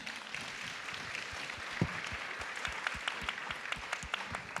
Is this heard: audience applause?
yes